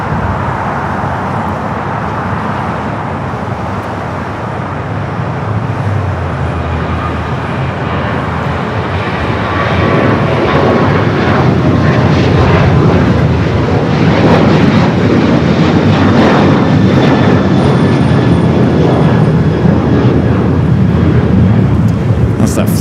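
An airliner takes off at LAX bound for Las Vegas, a broad engine roar that swells and grows louder toward the end. Voices talk over it, with road traffic faintly in the background.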